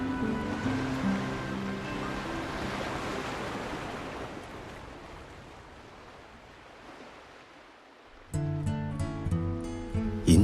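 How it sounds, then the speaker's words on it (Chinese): Ocean surf washes steadily onto the shore as a broad, rushing hiss that slowly swells and then softens, before music cuts in near the end. "听海的声音，一浪"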